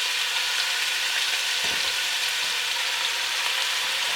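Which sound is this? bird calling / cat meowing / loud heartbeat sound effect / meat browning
meat browning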